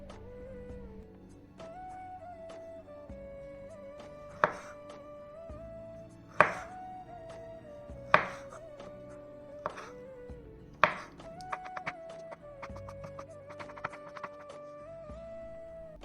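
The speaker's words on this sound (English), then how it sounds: "Now we will slice one avocado into small pieces." A knife chops an avocado into small pieces on a board, a series of irregular, crisp taps spaced a second or two apart, with faint background music underneath.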